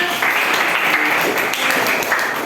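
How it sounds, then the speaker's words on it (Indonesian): A classroom of people claps steadily for a couple of seconds, a dense, even patter of hands with no voices over it. "beri tepuk tangan untuk Kenas"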